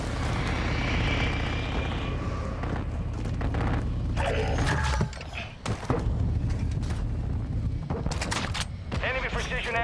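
Incoming precision airstrike in the Call of Duty Warzone battle royale game: a loud, continuous roar of aircraft and booming impacts fills the scene, dipping briefly midway before resuming, with scattered sharp bangs and some game voice in the mix.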